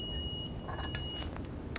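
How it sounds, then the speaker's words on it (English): An Extech MO290 moisture meter sounds its high-moisture alarm, a close steady electronic beep tone that holds, breaks briefly and resumes over a background hum. "it picks up the moisture and sounds the alarm when too much moisture is detected"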